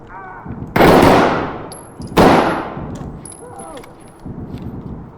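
Gunfire in the tactical shooter Ready or Not: two loud, close bursts of shots, each with a long echoing decay, and quieter game sounds in between.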